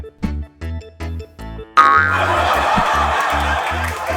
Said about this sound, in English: boing sound effect